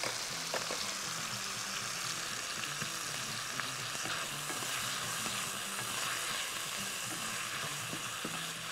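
Garlic sizzling in a pan with meat, a continuous steady frying hiss with light crackles and occasional stirring, close and moderately loud with no talk.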